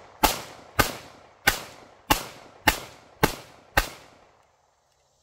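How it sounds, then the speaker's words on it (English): An Aim Surplus SCT Glock 17 clone pistol fires seven evenly spaced rounds, each a sharp, loud crack with a short decaying tail, ending in quiet. "A few rounds through this just so you can see that it, whenever you handle the pistol properly, it does"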